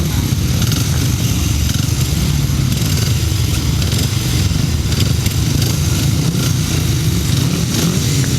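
500cc solo grasstrack racing motorcycles idling and blipping on the start line at an under-21 championship meeting, a loud, dense, continuous engine rumble from several bikes heard together with no break.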